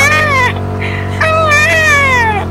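A person imitates a crying cat, producing a few drawn-out, wavering meows that rise and fall, loud and close.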